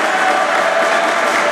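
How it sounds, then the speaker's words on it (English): A crowd cheering and applauding at a college basketball game, a steady, loud roar of clapping and voices filling the gym without a break. "They're cheering on the team that's on the floor right now."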